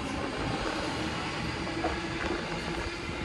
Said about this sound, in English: B1 now departing.